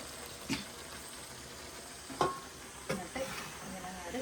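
A quiet sizzle from a hot pan of chicken in sauce, broken by a few soft scrapes of a utensil stirring every second or two.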